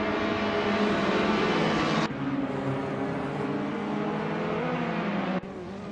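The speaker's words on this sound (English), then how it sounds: "Bot Iconic Odd is driving a 2007 Peugeot 407, which isn't exactly famed for speed, but offers decent comfort" A 2007 Peugeot 407 in a racing game, a steady engine drone at moderate level that holds without a break, with small shifts in pitch as it runs.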